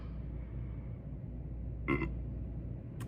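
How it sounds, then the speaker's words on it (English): A single short, gurgling belch stands out briefly over a low, steady background hum. "A belch."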